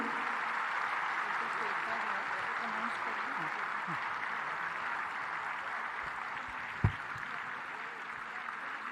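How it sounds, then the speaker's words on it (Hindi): Audience clapping at a kindness and compassion event in a New Delhi stadium, a broad continuous wash of applause heard from a distance, with a single sharp thump near the end. "आप सब तालियां बजाते रहें।"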